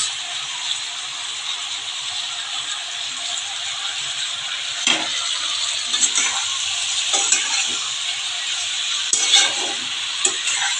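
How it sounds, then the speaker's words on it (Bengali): Prawns go into a pan of frying winter vegetables, making a loud, continuous close sizzle broken by several scraping stirs of a spatula against the pan, with no voices. "এখন আমি চিংড়ি মাছগুলো দিয়ে দিচ্ছি"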